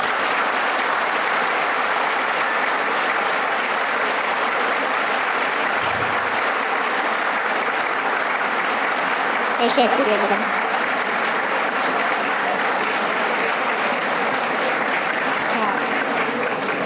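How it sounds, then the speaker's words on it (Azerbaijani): Graduates at a university graduation ceremony in Azerbaijan applaud themselves: dense, sustained clapping from a large crowd fills the whole stretch evenly, with a brief spoken thank-you partway through. "siz ilk olaraq bu 4 ili müvəffəqiyyətlə başa vurduğunuz üçün özünüzü bir gözəl alqışlayasınız"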